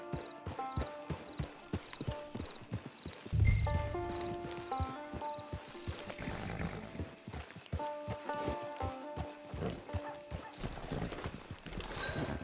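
Horse hooves clip-clop in a steady walking rhythm in the Red Dead Online video game, close and clear over ambient game music, with a snort partway through.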